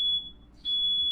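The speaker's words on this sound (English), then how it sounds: "my parents just set off the smoke alarm" A household smoke alarm shrieks with a piercing, steady electronic tone, loud and close, briefly dropping out midway before sounding again, set off by burnt burgers.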